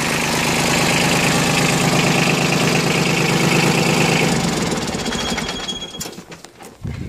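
Yanmar F155D compact tractor fitted with a 4-foot bucket, its engine idling smoothly and loudly up close with an even, rapid chugging that softens near the end.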